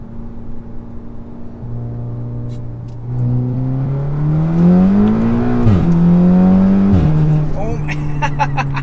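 A big-turbo Audi S3 dropping a gear and accelerating hard, engine note climbing loudly from a steady drone into a rising rev with two sharp gear-change dips, close inside the car, with a voice speaking over it.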